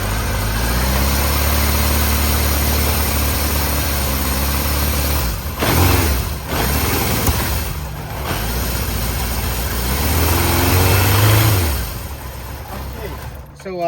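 A Kawasaki Z1 KZ900 motorcycle engine runs at a steady, close idle, then revs up briefly near the end, with voices talking over it.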